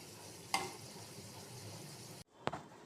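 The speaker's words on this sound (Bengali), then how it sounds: "এরমভাবে সবকটা পরোটা ভেজে নেব।" Aloo paratha frying in a pan gives a low, steady sizzle throughout, marked by two sharp clinks or scrapes near the start and end, with a brief drop to near silence between them.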